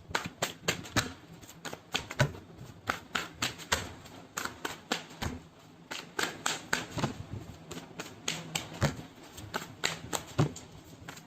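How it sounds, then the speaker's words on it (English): Tarot cards are shuffled and pulled in a quiet room as a run of soft, quick riffling taps and flicks, some in bursts and some spaced out, with no speech. "let's pull some cards from universe, where this connection is headed on,"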